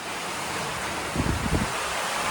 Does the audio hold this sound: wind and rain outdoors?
yes